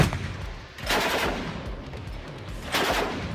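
A heavy machine gun fires 14.5x114mm anti-tank rounds in two loud, close bursts about two seconds apart, each a harsh, booming crack that rolls and echoes before fading.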